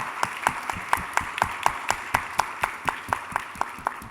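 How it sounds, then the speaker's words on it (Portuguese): At a summit talk, an audience claps for a speaker, a moderate crowd applause with a steady, rhythmic beat of synchronized claps running evenly throughout, fairly near and without speech. "Você merece aplausos por isso, Ana."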